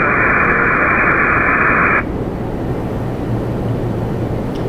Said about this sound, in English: we're listening to the arrival frequency right now